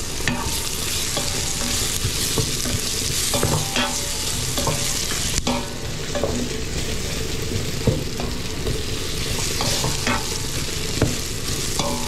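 Ginger sautéing in a hot pan gives a steady, dense sizzle and frying hiss with occasional stirring scrapes throughout, close and loud, with no voices.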